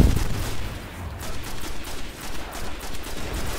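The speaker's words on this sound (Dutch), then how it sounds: "I give you cover with my sniper" Repeated gunfire in the Destiny video game, a dense rolling series of shots at fairly even intervals, loud and close with no talk over it.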